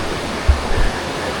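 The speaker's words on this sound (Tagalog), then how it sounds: "Yung isang maliit na agusan ng tubig na parang maliit na falls." A small stream of water pours down like a little waterfall, a loud steady broadband rush with a couple of brief low thumps midway.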